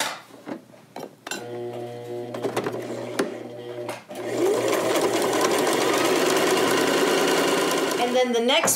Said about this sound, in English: we're gonna sew these right sides together